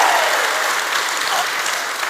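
Live audience at a podcast recording breaking into dense applause and cheering, a steady wash of clapping that holds loud and close from start to finish.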